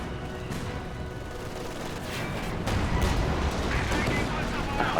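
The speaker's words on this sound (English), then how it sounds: "Look at the mortars here, though." Mortars and other artillery boom and crack through a continuous wartime battle din in Company of Heroes 2, with dense overlapping gunfire swelling louder midway and a voice talking over the mix.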